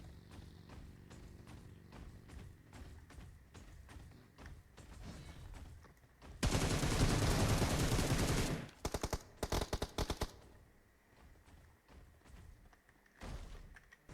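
Gunfire in PUBG Mobile: light rapid shots at first, then a loud dense burst of automatic fire lasting a couple of seconds, followed by separate sharp shots and a final blast.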